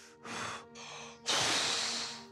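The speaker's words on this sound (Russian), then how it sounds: "Еле поднял этот чемоданчик, аж запыхался." A man breathes hard, panting after lifting a suitcase: a few heavy, breathy exhalations in close succession, the last one loudest and longest, with no talk.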